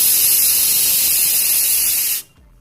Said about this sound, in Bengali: ডাল ভেজে আবার প্রেসার কুকারে সিটি মেরে নিয়েছে